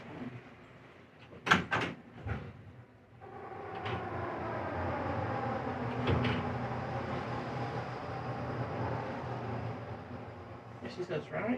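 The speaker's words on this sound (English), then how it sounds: "Doors closing." Lift doors in a multi-level parking garage slide shut with a short clatter, followed by the steady hum of the lift car moving, with a recorded announcement and people talking nearby.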